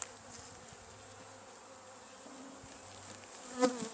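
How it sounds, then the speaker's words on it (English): Soft, steady humming of many honey bees in an open hive, faint and continuous, with a brief louder buzz near the end as one passes close. "So the bees are fairly quiet."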